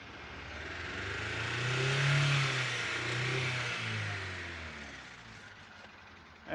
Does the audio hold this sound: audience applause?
no